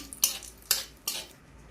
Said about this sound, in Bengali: আমি একটু নেড়ে দিচ্ছি।